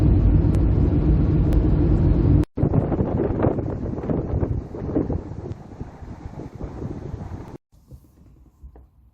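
A 1984 Nissan Stanza 1.6 GL car driving, a steady low rumble of engine and road noise mixed with wind buffeting, interrupted by two abrupt cuts, the last stretch much quieter.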